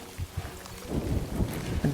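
Storm weather in the video game Death Stranding 2: a steady, noisy rain hiss with low rumbling swells that grow fuller in the second half, with no talking.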